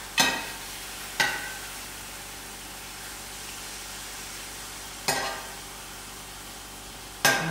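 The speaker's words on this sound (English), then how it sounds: "We throw in the mince, and allow it to fry out the fats." Minced meat for a samosa filling sizzles steadily in a hot pan. A few sharp scraping stirs cut through the constant frying hiss.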